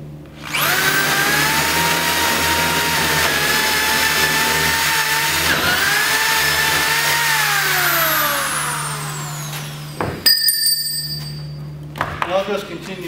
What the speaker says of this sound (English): and I can finish drilling that half-inch hole.